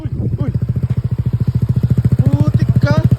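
A motorcycle fitted with an Akrapovic exhaust pipe idles close by, a loud, steady, rapid thumping putter with a coarse, clattering edge. People talk over it in excited bursts.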